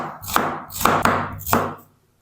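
A knife finely chopping a medium onion on a cutting board: three crisp, close strokes land at a steady half-second rhythm before it falls quiet, with no talking.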